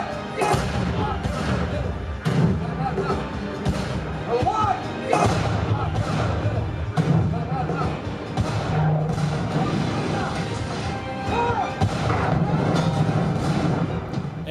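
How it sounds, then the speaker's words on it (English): War film battle scene played through an SVS Prime 5.1 home theater system: dense, continuous machine-gun fire and explosions with anti-tank guns as tanks cross an open field, heavy thuds and booms throughout, with movie dialogue and shouting mixed in. "with the sound of machine guns and explosions going off, while the tanks cross an open field being shot at with anti-tank guns"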